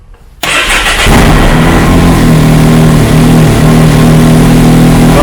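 A Can-Am Maverick X3 side-by-side with a freshly changed belt cranks and fires up after a brief quiet moment, then settles into a loud, steady rumbling idle with light revving, close by and alone.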